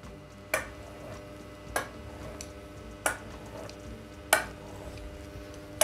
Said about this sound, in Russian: Удобнее всего нарезать это ножом для пиццы, ну или обычным острым ножом.